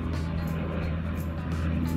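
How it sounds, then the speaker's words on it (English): Low rumbling drone of a FedEx aircraft flying over near an airport, a steady, fairly loud engine roar heard at a distance with no talking. "I'm sorry for the noise if you guys can hear that plane."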